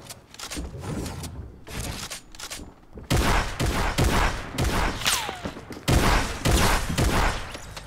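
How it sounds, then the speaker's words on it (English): Assault rifle fire in the shooter game Fortnite, rapid bursts of shots in clustered volleys with short pauses between, loud and sharp, alongside other game effects. "get the last of that assault rifle damage"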